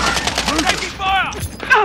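Rapid gunfire in the video game Call of Duty Warzone during a Halloween event, short sharp bursts mixed with voices talking over the shots, close and fairly loud.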